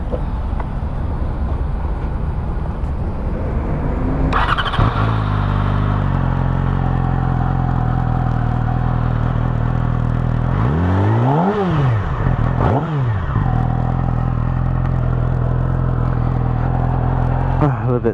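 A motorcycle at a Singapore bike show fires up partway through, settles into a steady idle, then gives two sharp revs that climb and fall back. The engine is loud and close, with a busy background before it starts.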